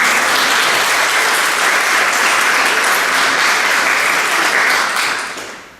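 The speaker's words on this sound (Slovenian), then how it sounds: "Aplavz za žirijo!" Loud, sustained applause from an audience honoring the jury at a photography competition in Domžale, a dense steady wash of clapping that fades out at the end.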